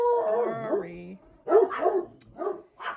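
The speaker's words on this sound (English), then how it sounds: "That's a hound dog." A hound dog howls in long wavering tones, followed by shorter yips and barks, close and fairly loud, with no talking over it.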